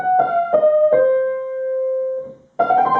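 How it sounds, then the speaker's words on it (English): A melody on the blues scale, played as a few distinct plucked or struck notes, one held and sustained, then a brief pause before another clear note, alone and close. "The blues scale seems to combine both of these feelings."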